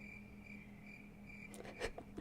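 Crickets sound effect played from a stream deck, a quiet repeating chirp in regular pulses, joined near the end by a few brief clicks and knocks.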